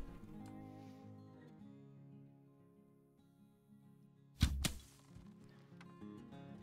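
A longbow arrow strikes a pronghorn in theHunter: Call of the Wild, landing as a sudden loud thunk with a short second knock right after, set against a low, steady ambient drone.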